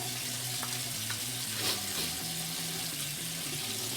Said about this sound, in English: Let me just rinse this alum off my face here.